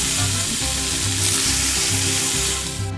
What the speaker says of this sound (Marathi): कांदा गुलाबी रंग येईपर्यंत आपल्याला परतायचा आहे।